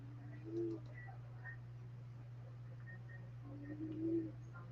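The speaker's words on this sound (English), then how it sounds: "Sorry about the weird noise. Apparently, the cat's snoring." A sleeping cat snores faintly, giving two soft, cooing, wheezy breaths a few seconds apart over a steady low indoor hum.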